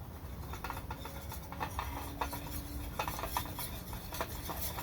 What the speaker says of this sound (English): And you want to mix this up